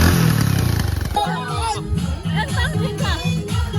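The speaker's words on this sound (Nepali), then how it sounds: "बाइक बिग्रिरहेको बाइक बिग्रियो" A motorcycle engine running rough as the bike breaks down, a loud sputtering drone at first that drops away into fitful bursts beneath excited talk.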